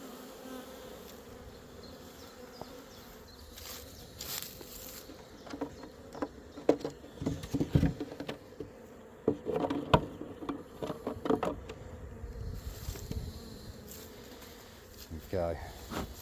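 Honey bees buzz around an open hive, a soft insect hum under scattered knocks and handling noises, with voices talking close by.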